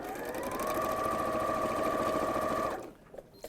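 A domestic sewing machine stitching jersey fabric without a jersey needle runs at a steady buzzing whir for nearly three seconds, then stops, leaving a few faint clicks.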